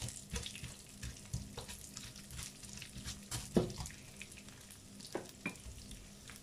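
Rice browning in a pan as chopped onions go in, part of a vegetarian rice dish: soft frying sizzle with scattered clinks and stirring scrapes, fairly quiet and close, no talking.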